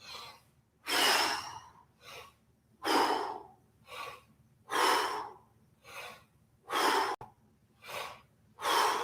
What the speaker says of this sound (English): let's just do one more set of breath squats, 15 breath squats. So feet more than hip width apart. Exhale first, and here we go.